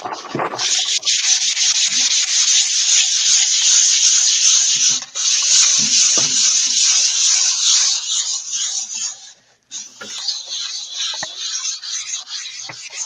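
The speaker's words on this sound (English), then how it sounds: "Now I saw sandpaper over here somewhere." Sandpaper rubbed by hand over a surface in long continuous strokes, a loud, close rasping hiss with brief pauses and a short break near the end.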